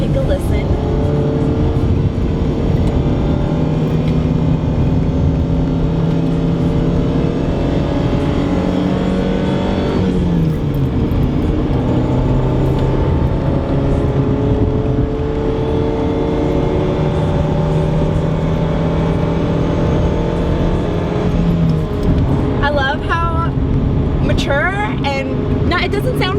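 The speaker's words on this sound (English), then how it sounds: "go on the freeway and rev the engine out a little bit so that you can really hear what the exhaust sounds like" Honda Civic EK coupe with a Tanabe Touring Medallion exhaust droning steadily at speed on the freeway, engine tone rising and falling with revs under loud road and wind noise.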